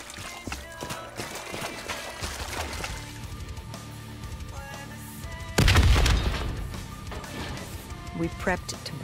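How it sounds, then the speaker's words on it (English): A loud explosion erupts in the Black Ops 3 campaign, played on Nightmare mode with zombies: a sudden heavy boom about midway that rumbles and decays over busy game music, gunfire and speech. "The explosion blocked our path."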